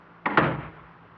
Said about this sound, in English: How did that door close?